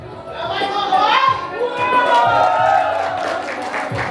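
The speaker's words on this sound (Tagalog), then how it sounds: "Let's give him a round of applause." An audience at a Tau Gamma fraternity anniversary gathering claps and cheers for the founder's closing remarks, a dense crowd sound with shouts and voices mixed through the applause.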